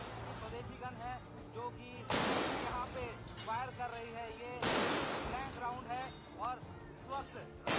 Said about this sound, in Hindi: भारत में तैयार की गई तोपों से 52 सेकंड में 21 राउंड फायरिंग की गई